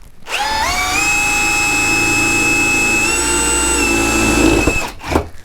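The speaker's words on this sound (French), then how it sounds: "Et on va percer l'aluminium." A Bosch GSR 18V-150C cordless drill spins up with a rising whine and bores into aluminium, holding a loud, steady high-pitched tone for several seconds before winding down, with a brief clatter at the end.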